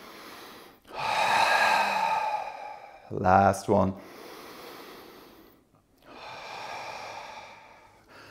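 Forceful open-mouth breath-of-fire exhales in a power yoga class: two long whooshing breaths and a short, sharp double puff between them, loud and close, with a brief spoken cue from the instructor.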